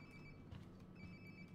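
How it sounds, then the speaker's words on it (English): A phone rings nearby in Life is Strange Before the Storm, a faint repeating electronic trill in two short bursts over quiet background ambience. "Sounds like my phone is definitely nearby."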